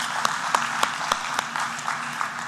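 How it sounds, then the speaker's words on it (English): An audience at a conference breakout session on environmental, safety and social impacts applauds the panelists, a steady wash of clapping with a few sharper individual claps standing out. "I would like us to give them a round of applause for their presentation."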